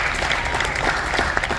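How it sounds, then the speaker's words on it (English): Steady applause from an audience at a college football signing ceremony, a dense, even patter of hands clapping throughout at close range with no break. "Clap, Lions for them."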